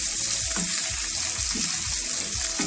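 Garlic and prawns frying in a pan, a steady bright sizzle with soft stirring scrapes and small clinks, close and continuous.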